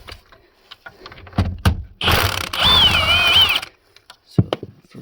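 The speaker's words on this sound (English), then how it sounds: "So now we're gonna loosen this 12mm nut, and on another side we have this 12mm nut, and we're gonna be able to lower the steering column." A wrench working a 12mm nut on a Kia Soul steering column, heard as a close mechanical whirring ratchet burst of about a second and a half, bracketed by scattered clicks and knocks.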